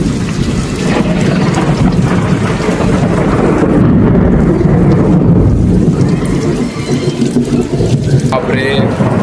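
A thunderstorm with heavy rain pouring down steadily, loud and close, with low rumbling thunder rolling beneath and faint voices in the background.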